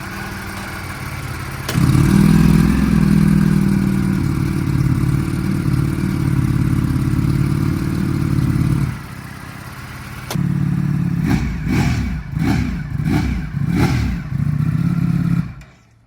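A 2023 Ducati Panigale V4S on its stock exhaust runs in gear in four-cylinder mode, a loud, close, steady engine drone that briefly dips, then returns with a pulsing, uneven rhythm before cutting off.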